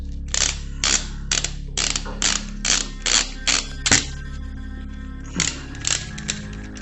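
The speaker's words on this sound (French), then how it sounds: "Donc je mets l'autre plaque par-dessus, la plaque supérieure, et je visse." Small screws being driven into the top plate of an Apex DC5 drone frame, heard as a series of about a dozen short, crisp mechanical clicks and ratcheting turns in close, quiet surroundings, with no talk.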